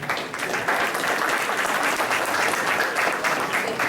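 An audience at a director-general election debate breaks into loud, sustained applause, a dense wash of many hands clapping at close range with no break.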